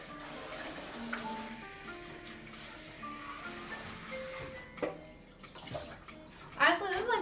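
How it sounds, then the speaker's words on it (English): Water runs from a tap into a sink while something is rinsed out, a faint continuous splash with a few clinks and a louder burst of spray near the end. "Let me just rinse this out real quick."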